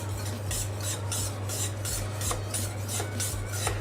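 A chef's knife scraping across a 1000-grit whetstone in regular rasping strokes, roughly two per second, close and steady under a constant low hum, with no voices.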